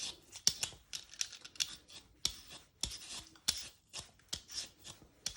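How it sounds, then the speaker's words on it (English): Potato skin being scraped off with a peeler, a close, quiet series of sharp rasping strokes repeating at an uneven rhythm with short gaps between them. "First you peel all the skin off using your peeler."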